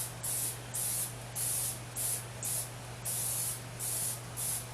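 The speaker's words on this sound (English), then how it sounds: "we're going to use cooking spray. You want to liberally" Eight short bursts of cooking spray hiss onto a baking pan in a steady rhythm, close and fairly loud, with a low constant hum underneath and no talking.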